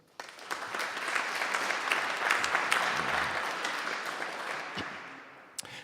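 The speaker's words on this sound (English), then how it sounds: "May I have your kind attention and a warm round of applause for Professor Albert Rice." Warm applause from a lecture audience welcoming a professor at an early music event, a dense sustained clapping that swells and then tapers off.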